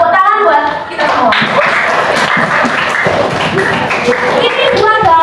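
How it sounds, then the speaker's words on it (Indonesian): A classroom group claps their hands in a dense, sustained round of applause lasting several seconds, close and loud, with voices mixed in underneath. "tepuk tangan buat kita semua"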